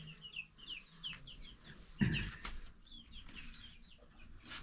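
Chickens cluck softly in a series of short calls at a rural African bird-keeping spot in the morning, with a sharper, louder burst near the middle against quiet background noise.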